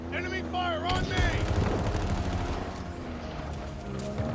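Rapid automatic gunfire crackles in a dense barrage from enemies in a shooter video game, over a busy battle mix with tonal effects at the start.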